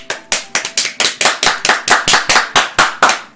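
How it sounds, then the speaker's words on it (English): About fifteen loud, evenly spaced sharp claps in a brisk steady rhythm, a video game applause sound effect, close and clear with nothing else heard. "The four of us applaud."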